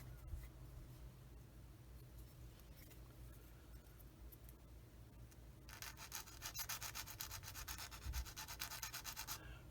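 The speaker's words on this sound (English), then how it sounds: "Get that sanded down smooth like that." Sandpaper rubs a small plastic part of a Tamiya 1/35 Panzer 38(t) model smooth. Soft scratching turns into brisk, louder back-and-forth strokes in the second half, close up and with no talking.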